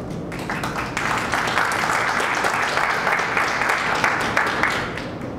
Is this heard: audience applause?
yes